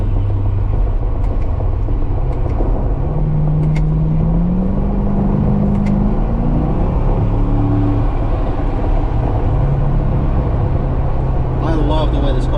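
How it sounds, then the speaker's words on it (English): A Chevrolet Corvette Grand Sport (C7) engine drones loudly and rises in pitch as it revs in a tunnel, with a boomy, enclosed rumble throughout and a person talking over it. "I love the way this car sounds."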